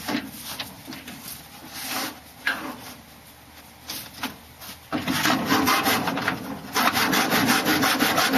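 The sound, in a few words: sawing wood in a miter box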